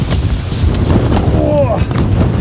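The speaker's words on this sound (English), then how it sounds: "You can hear the wind just whipping up there, really flying in." Strong wind whips across an exposed mountain face, buffeting the microphone in a continuous, close, rough roar.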